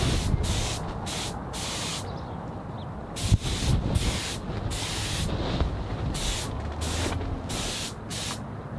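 Spray gun bursts apply dye and finish to a guitar inside a tent used as a spray booth on a very windy day, a series of loud hissing blasts with short gaps, over a steady wind rumble.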